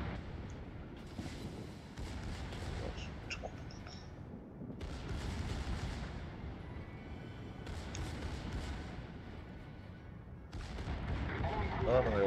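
Secondary guns on the battleship Bismarck in World of Warships fire in repeated booming volleys, a near continuous barrage with short gaps, while someone comments over the gunfire.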